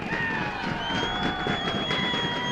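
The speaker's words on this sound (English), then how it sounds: "Wicklow just coming out to applause." A crowd at a Towns Cup semi-final between Carlow and Wicklow applauds and cheers as the Wicklow team comes out, a steady mass of clapping and voices with whistle-like tones above it, continuous and fairly distant.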